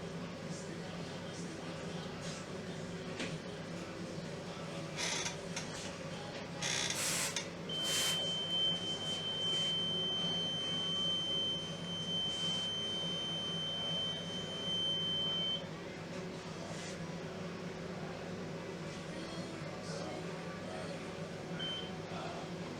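A reconditioned oil mist detector head's alarm sounds a steady high-pitched electronic tone for several seconds over a constant low machinery hum.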